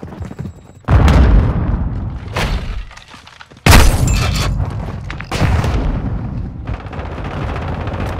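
Grenade explosions in Call of Duty: Modern Warfare II, two loud sharp blasts a few seconds apart, each followed by a rolling rumble and debris, with a further burst of combat noise after.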